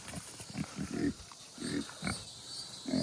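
Pigs grunting on a shady, breezy hillside during evening farm chores, a series of low, rough grunts in irregular bursts, close and fairly loud, with faint wind noise behind and no talk.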